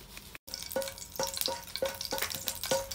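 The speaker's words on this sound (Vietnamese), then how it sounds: "Để dầu vô cho nó cũng mới thơm chứ. Để hành phi vô, hành tím vô." Sliced purple shallots fry in hot oil in a home kitchen, a steady sizzle broken by rhythmic scraping strokes of a utensil, close and fairly loud.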